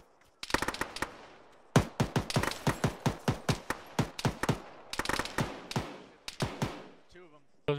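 Sharp single rifle shots ring out near and loud in a ShackTac military game, a rapid, fairly regular string of cracks in several bursts with short pauses between, ending with a brief bit of voice.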